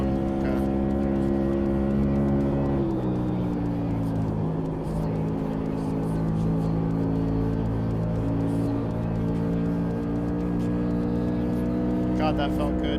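A race car engine droning continuously through laps in a racing video game, loud and sustained with steady harmonic tones that shift in pitch as it shifts and corners, while a voice talks over it.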